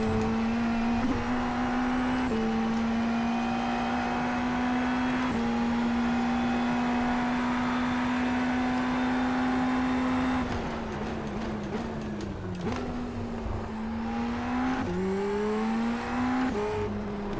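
An Indy NXT open-wheel race car engine in the iRacing simulator holds a loud, steady high-pitched drone, then revs up and down through several quick shifts while the car accelerates on a road course; no one talks.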